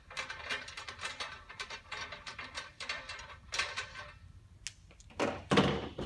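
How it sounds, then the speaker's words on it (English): Metal nuts being loosened and taken off the top cap of an 8-inch RO membrane housing in a maple sugarbush, giving a run of close clanks, scrapes and knocks with a heavier thunk near the end. "The first thing we're going to do is we're going to loosen our nuts on the top here."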